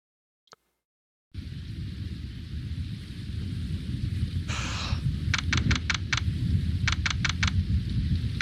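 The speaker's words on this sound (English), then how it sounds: "Still raining." Steady rain falls through a night scene in a video game, a dense continuous wash after a brief quiet start, with sharp repeated clicking bursts layered on top and no speech.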